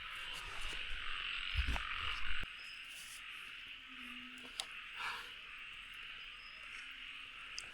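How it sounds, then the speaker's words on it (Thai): Frogs croak at night in the Thai countryside, a steady chorus beneath a constant high insect drone, with some nearby rustling and thumps early on and a few brief clicks later. "โอ้อันนี้กบ"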